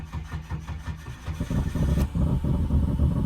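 Eshay VT monster truck engine cranking and then catching, a choppy starter churn giving way to a loud, throbbing idle with a rough note from an exhaust leak.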